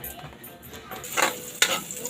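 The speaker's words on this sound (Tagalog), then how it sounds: "Kumukulo na siya guys" A covered pot of crab (alimasag) comes to a boil on the stove, giving a soft bubbling, sizzling hiss that swells into two louder surges near the end, with no talking.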